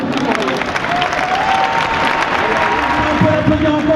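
A large crowd at a French political rally for Benoît Hamon claps loudly and steadily, dense sustained applause with scattered cheers and voices mixed in throughout.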